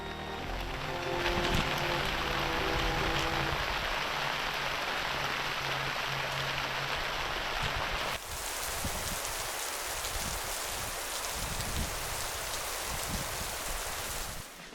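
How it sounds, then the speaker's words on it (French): Steady rain pours onto a tent at a campsite in Italy during a thunderstorm, a dense continuous hiss with a sudden shift in tone partway through, no voices. "il commence à pleuvoir et j'entends du tonnerre"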